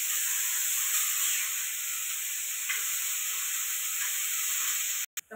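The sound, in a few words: turmeric being sautéed in a pan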